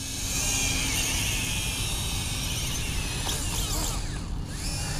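The rear propellers of a WLtoys Q353 amphibious drone, used to drive it along the ground, give a continuous whirring motor buzz with a rough, close, even drone and no voices.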